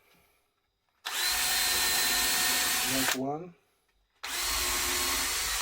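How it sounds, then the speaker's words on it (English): A power drill whirs loudly for about two seconds boring holes for screws, winds down with a falling whine, then starts again after a short pause; a voice speaks briefly in between. "So when I do that, I just bring a drill,"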